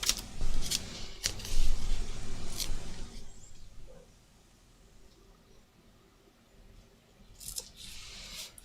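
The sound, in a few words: peeling paper backing off adhesive craft embellishment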